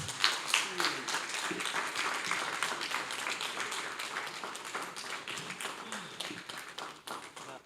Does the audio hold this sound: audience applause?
yes